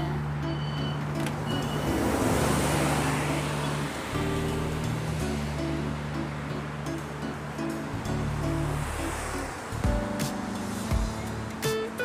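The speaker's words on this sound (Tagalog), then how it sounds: "Maingay ang tunog ng mga sasakyan" Steady roadside traffic along a tree-lined road at sunset, a continuous broad roar like passing cars with engine hum rising and falling, fairly close and loud throughout, no talking.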